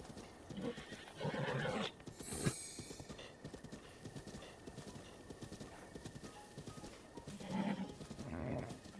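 A horse in Zelda Breath of the Wild neighs loudly twice while its hooves clip-clop in a steady gallop underneath, with a brief metallic game chime in between and no talking.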